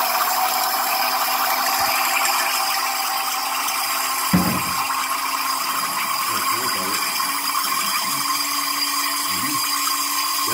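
A small 6 volt DC motor, chilled in liquid nitrogen, whirs with a high, steady buzz at close range while a person talks briefly over it.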